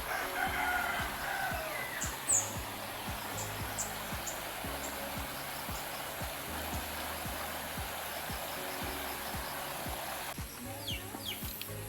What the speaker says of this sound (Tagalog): Ay, may ibon.